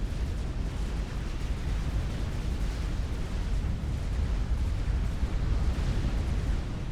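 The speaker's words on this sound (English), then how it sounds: "Looks like a violent explosion" Dense, continuous rumbling explosions from a Supreme Commander real-time strategy battle, with booming blasts and bursts overlapping in a thick, steady roar and no quiet moments.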